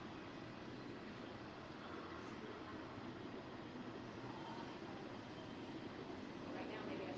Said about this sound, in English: Gonna pause because there's a train going through.